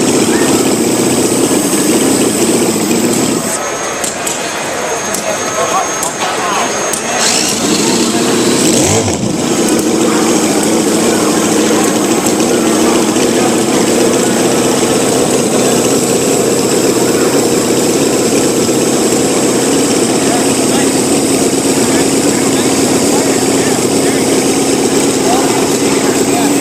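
A hit and miss stationary engine running at a model engineering show chugs steadily throughout, with people talking nearby over the continuous machine noise.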